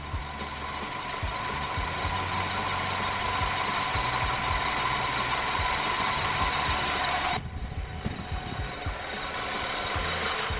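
A Ford Escape's 2.3 Duratec engine runs steadily with a knocking, rattling noise from its front accessory drive, heard close and continuous, with a brief dip in the sound around two-thirds through.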